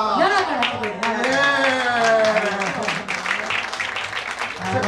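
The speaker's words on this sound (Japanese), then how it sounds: "だから何の拍手やねん。" Clapping from a small audience at an acoustic live show in a studio venue, a few seconds of scattered applause mixed with people talking and laughing close by.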